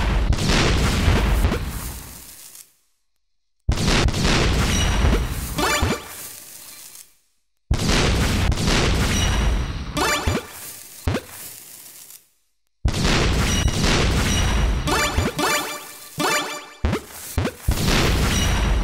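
Cartoonish bomb blasts in the Super Bomberman R video game, loud booming bursts recurring in clusters with brief silent gaps between them, along with crashing and whooshing game effects.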